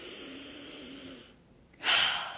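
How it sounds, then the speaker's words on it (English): A slow, deep breath in through the nose during a guided meditation, a soft airy drawn-out inhale, then a brief pause and a louder, breathier rush of air near the mic. "And deep breath in."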